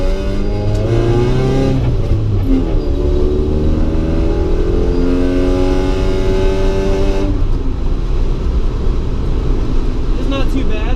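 A 1990 Honda Civic EF hatchback on coilovers drives along a smooth road, with steady interior engine drone and gear-change shifts in pitch while a person talks over it.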